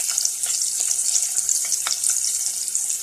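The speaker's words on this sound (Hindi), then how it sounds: "और लहसुन और अदरक का पेस्ट। इसको थोड़ा सा फ्राई कर लेते हैं।" Garlic and ginger paste fries in a pan for baby corn Manchurian, giving a continuous bright crackling sizzle with scattered small pops and spits, close and steady throughout.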